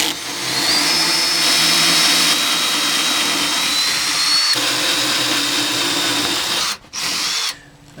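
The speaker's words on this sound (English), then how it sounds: "We're going to be using the keyhole saw." A keyhole saw in a power drill bores holes through a carry plate with a loud, steady whine close by, then cuts out briefly twice near the end.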